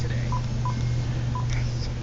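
A toy telephone's buttons sound a few short, separate beeping dial tones over a steady low hum in an indoor room, with faint talk around them.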